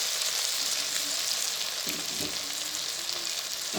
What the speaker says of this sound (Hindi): लहसुन अदरक अच्छे से भुन गया है।